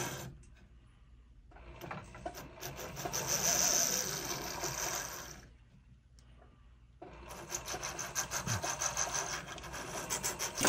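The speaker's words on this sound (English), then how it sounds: "put this burr in there and push it to this prong, pull it to this prong, rotate the mounting" A jeweler's burr cuts seats into the prongs of a ring mounting, making a close, high whirring grind in two bursts with a short quiet gap between them, and no talk.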